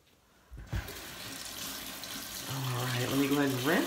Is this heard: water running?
yes